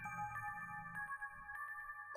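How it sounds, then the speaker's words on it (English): An ominous telephone ringtone in a horror video game, a steady sustained electronic tone with pulsing repeated beeps over a low rumbling background, fairly quiet and alone. "the ringtone feels ominous"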